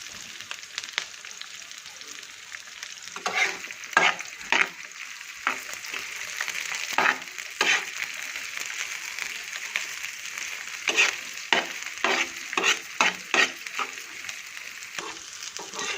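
Onion, garlic, green chillies and dried chillies frying in hot oil, a steady close sizzle throughout with repeated sharp stirring scrapes and crackles, no talking.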